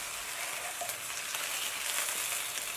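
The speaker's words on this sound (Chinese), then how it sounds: "将煎好的鸡腿倒入锅内，翻拌均匀" Pan-fried chicken legs tossed in a wok of bubbling dark caramelized rock sugar and oil, giving a steady close sizzle with faint scraping stirs throughout.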